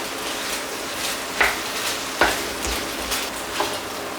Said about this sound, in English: Give that a mix with the spring onions.